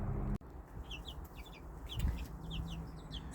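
Young hens cluck and chirp softly in a backyard homestead coop, short repeated calls scattered over a low outdoor rumble after a brief thump at the start.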